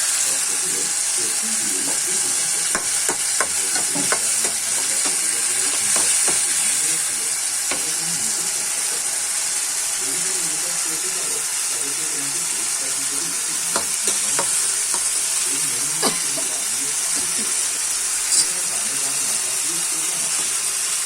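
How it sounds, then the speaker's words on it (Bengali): Poa fish fry in hot oil, giving a steady, close sizzle with soft crackles and occasional sharp pops, and no voices. "কষে যখন উপর দিয়ে তেল ভেসে উঠবে, তখন পোয়া মাছগুলো বসাই দেব।"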